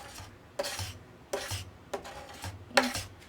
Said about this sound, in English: And then I'll just take a scraper